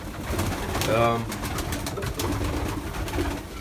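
Pigeons coo softly nearby in a loft, a brief rolling call standing out over a steady background murmur.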